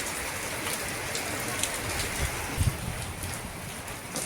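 Steady rain pours down during a storm, with water on the road and wind moving the trees; a continuous close hiss runs throughout, broken by a couple of soft low thumps near the middle.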